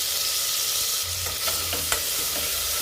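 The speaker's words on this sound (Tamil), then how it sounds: "வெங்காயம், பூண்டு, தக்காளி எல்லாம் நல்லா வதங்கட்டுங்க." Onion, garlic and tomato sauté in a hot pan for a quick rice-and-lentil lunch dish, giving a steady, close sizzle broken by a few scraping stirs and light clinks, with no talking.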